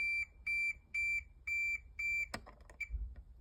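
Multimeter continuity beeper sounding on a guitar's ground connection: six short, evenly spaced electronic tones, followed by a sharp click and faint handling noise.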